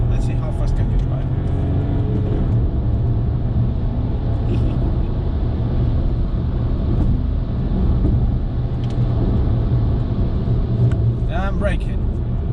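A 2020 VW Polo drives fast on empty roads, its steady engine rumble and road noise close and continuous, with a voice speaking over it.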